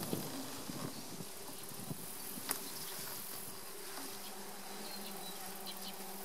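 A captured honey bee swarm buzzes steadily inside a hive box, a continuous close drone of many bees with a few brief louder passes and light knocks over the hum, no voices.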